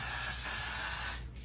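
A can of hair spray releases one long, steady, close hiss that cuts off abruptly near the end, with no talking.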